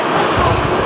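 The Spirit of Queensland passenger train rumbles down a town's main street in Rockhampton, a loud, steady rolling roar of wheels on rails heard from close by.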